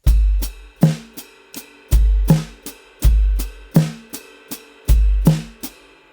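A steady drum groove for a worship song, with deep kick thumps and snare hits over a regular eighth-note hi-hat and ride pattern, repeating several times with no talking.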